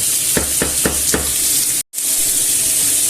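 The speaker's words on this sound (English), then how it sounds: "we're going to stir fry this until it's nice and brown" Potatoes and pork stir-fried in a hot pan for a Galician dish, a loud, dense sizzle broken by four quick rhythmic stirring scrapes, then a brief cut and steady frying.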